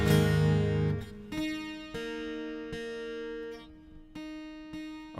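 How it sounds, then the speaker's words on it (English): A guitar gets tuned during a live stream, single plucked notes ringing out one after another with pauses as the pitch is adjusted, sustained and close with a low background hum. "let's get it in tune a little bit."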